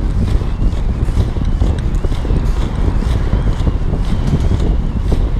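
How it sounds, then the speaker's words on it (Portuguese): Heavy wind buffets the microphone while a skater rolls along outdoors on urban three-wheel inline skates, giving a loud, continuous low roar with gusty rumbles and faint rolling clatter throughout. "Tô contra o vento, contra o vento."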